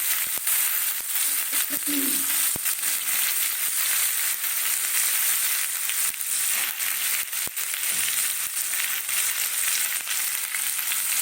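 Ginger and green chillies frying in hot oil for an egg omelette curry, a loud, steady close sizzle with scattered sharp crackles running throughout.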